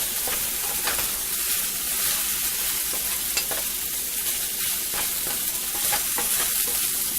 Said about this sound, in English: So I'm going to stir this around real good in here.